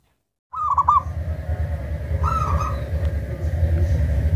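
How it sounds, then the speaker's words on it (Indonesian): A zebra dove (perkutut) coos in clear, warbling phrases close by, with two distinct calls over a steady low background hum. "Anda ingin memiliki burung perkutut seperti ini?"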